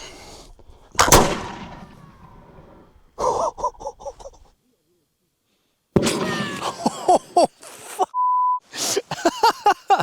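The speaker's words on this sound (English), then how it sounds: "Definitely a lot louder of a shot." A black-powder musket fires one sharp, loud blast near the start, and the boom rolls away over a couple of seconds; a later burst of noisy activity, a brief beep and clipped voices follow after a silent gap.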